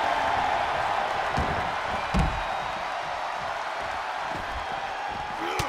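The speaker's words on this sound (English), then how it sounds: "Listen to this crowd." The arena crowd in the WWE 2K24 wrestling game keeps up a steady, dense roar, with a single heavy slam thudding through it.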